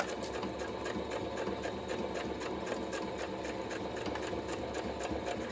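Sewing machine stitching fabric for a notions tray, a steady fast needle chatter running continuously and close by with no break.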